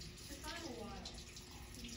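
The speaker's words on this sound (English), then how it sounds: "I think there's a lot of air in the line for the hot water." A hot water tap runs with air in the line, giving a steady faint rushing hiss broken by sputtering gurgles over about two seconds.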